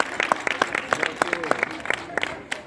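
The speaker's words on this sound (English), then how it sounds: "So, a big applause to all of you for being here once again today." An audience at the DXN European Leadership Camp in Sitges claps in a brief burst of applause. The claps are close and sharp, many separate strikes in a quick, uneven rhythm.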